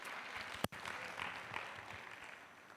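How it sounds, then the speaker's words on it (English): A symposium audience on effective governance and digital transformation applauds its speakers after their presentations; steady, faint clapping fills the whole stretch, with one brief sharp spike near the start. "So if you would please give a round of applause for our speakers for their presentations."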